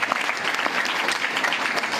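Audience members at a sales training seminar applaud for themselves, a brief burst of moderately loud, dense clapping with distinct individual claps standing out throughout.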